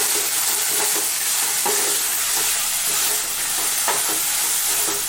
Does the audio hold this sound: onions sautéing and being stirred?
yes